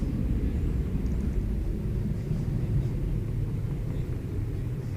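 A large Asiana airliner takes off, bound for Los Angeles, heard as a continuous deep, distant engine rumble with a broad roar that holds steady throughout.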